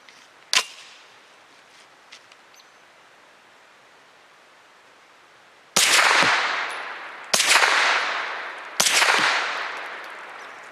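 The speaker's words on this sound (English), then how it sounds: "Tia will go first, shooting the older model with the suppressor." Suppressed shots from an older-model Grand Power Stribog firing Fort Scott rounds outdoors: one sharp report, then after a pause three loud cracks spaced over a few seconds, each with a long broad hissing decay.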